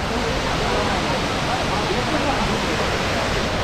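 Silver Cascade waterfall in Kodaikanal roars as a steady, loud broadband rush of falling water, continuous and unbroken throughout.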